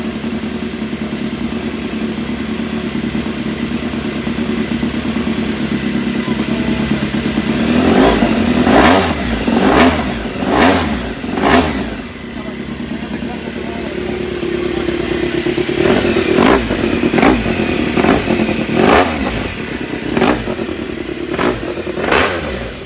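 An exotic superbike engine revs hard in a series of sharp, raspy bursts close by, rising and falling in two clusters over a steady idle, loud and unaccompanied by talk.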